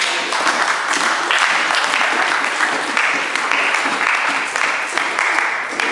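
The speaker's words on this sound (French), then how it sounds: "On peut les encourager, on acclame le Seigneur" A church congregation bursts into sustained, dense applause acclaiming the Lord, loud and even throughout with a few voices mixed in.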